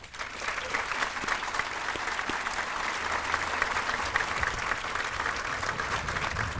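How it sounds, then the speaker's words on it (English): An audience applauds a chorus at a Hall of Fame ceremony, a dense, steady wash of clapping that holds evenly loud from start to finish. "Let's give the chorus another round of applause."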